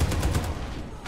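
Shotgun fire in the online shooter Warface, a quick burst of booming low blasts over about a second, loud and close.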